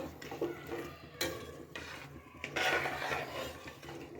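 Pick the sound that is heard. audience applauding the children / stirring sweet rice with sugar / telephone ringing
stirring sweet rice with sugar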